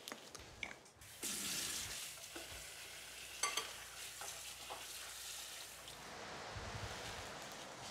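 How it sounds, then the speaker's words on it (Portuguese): Eggplant frying in a generous amount of olive oil, a soft continuous sizzle with occasional stirring clatters and scrapes, quiet and close with no talking. "é importante primeiro fritarmos bem a berinjela, dar-lhe uma boa fritura."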